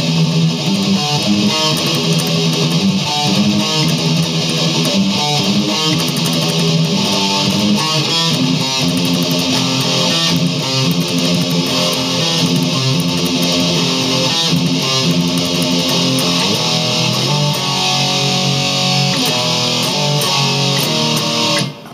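Heavy distorted electric guitar riff from a thrash metal song, chugging loud and dense without pause over its full length.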